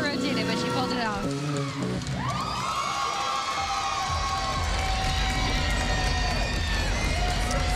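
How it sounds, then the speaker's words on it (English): Team and fans cheer at a college women's gymnastics championship meet, a broad, steady roar of crowd noise filling the arena, with music-like tones early and commentary voices running beneath. "Her team cheering, the fans cheering"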